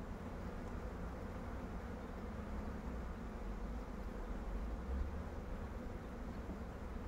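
Dense, steady buzzing of many honeybees in an opened queenless hive, a continuous close drone without pauses and with no voices over it.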